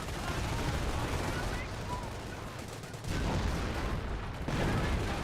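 Dense gunfire from a Company of Heroes 1 battle, with steady overlapping rifle and machine-gun bursts rolling on throughout, broken by a few louder thumps of heavier fire.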